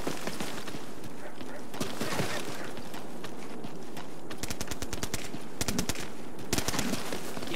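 Rapid bursts of gunfire in the Ghost Recon Switchback DLC, with a longer string of fast shots near the end over steady game ambience and scattered footstep-like clatter.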